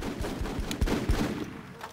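Rapid gunfire in the squad combat game Full Spectrum Warrior: Ten Hammers, a burst of sharp shots in quick uneven succession, fairly quiet and somewhat distant, fading out near the end.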